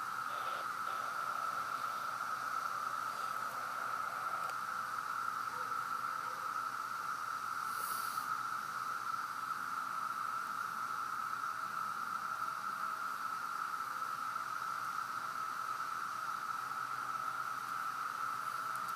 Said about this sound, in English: So this is the sound of the cicadas.